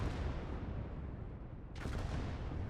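A tank gun in a Warhammer 40K Conquest battle fires a salvo of shots amid a continuous rumble of combat noise, with one sharp crack standing out partway through and no talking.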